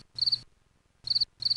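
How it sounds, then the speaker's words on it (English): A crickets sound effect chirps in short, bright trilling bursts, three quick pulses separated by brief silences, clear and close against a quiet background. "Keep the crickets rolling."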